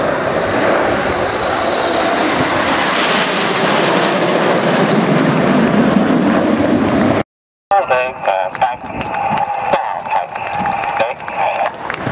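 A Vulcan jet bomber roars past at an air display, a loud sustained engine rush that swells and fades, followed after a brief gap by quieter engine noise mixed with crowd sounds.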